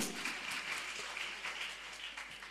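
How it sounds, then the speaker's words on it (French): Audience applause at an evening school event, a dense steady wash of clapping that holds at an even level throughout without a break. "Sous vos applaudissements, s'il vous plaît."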